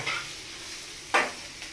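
Food sizzles steadily while being fried and stirred in a small kadai, with a brief louder scrape of the stirring spoon partway through.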